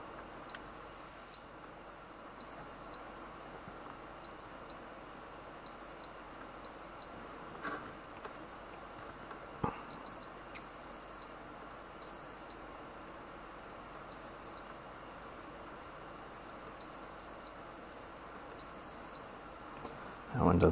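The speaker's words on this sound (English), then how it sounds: "We're beeping. We are beeping." A Macintosh IIcx computer on a repair bench gives a series of about ten short, high electronic beeps at irregular intervals over a quiet hiss, faint and steady.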